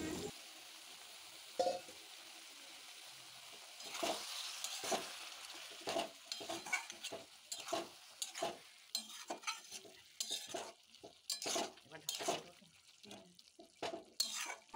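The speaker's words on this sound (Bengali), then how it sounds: "দিয়ে দিল সামান্য পরিমাণ জল" Banana flower curry cooking with fish head in a pan, water added and then stirred: a faint sizzle underneath rapid, irregular scraping and clinking strokes of a spoon against the pan, close by, with no voices.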